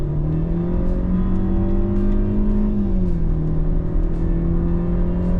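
A Mercedes GLC Coupe engine pulls steadily under acceleration, a loud, continuous drone whose pitch climbs gently, dips once as it shifts, then holds, heard from inside the car with no talking.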